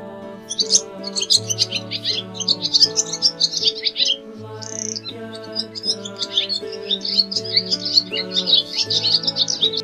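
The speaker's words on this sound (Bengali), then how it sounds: "ঘুঘু পাখি ডাকছে গাছে।" Steady chirps and tweets from a dove calling in a tree repeat over a soft, sustained musical tune, fairly close and continuous throughout.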